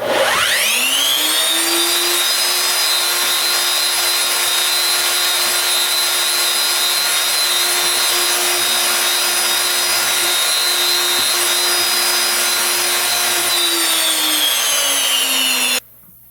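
A homemade pin router and its vacuum system power up with a rising whine, then hold a loud, steady mechanical drone with a high tonal pitch for about fifteen seconds before spinning down and cutting off abruptly.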